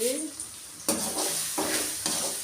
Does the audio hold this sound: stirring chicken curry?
yes